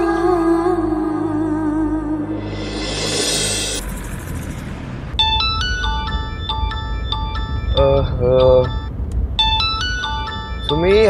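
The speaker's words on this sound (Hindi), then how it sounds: "सुमी, हैंग ऑन, उठा रहा हूँ फोन।" A phone ringtone plays a repeating electronic melody of bright beeping notes, following a rising whoosh and musical tones, loud and close.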